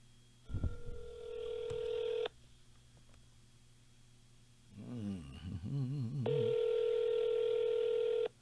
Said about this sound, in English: Let's see if I can get John Mayo on the phone